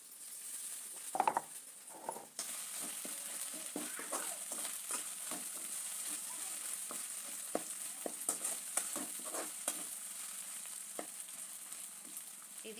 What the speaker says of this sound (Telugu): ఉల్లిపాయలు బాగా వేగాలి వేగినాయి